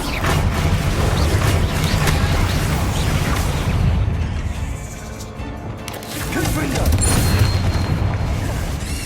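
In Hogwarts Legacy, the Bombarda spell sets off heavy, booming explosions with crashing debris and rumbling low end, loud and continuous, dipping briefly midway before surging again, with voices speaking over the din.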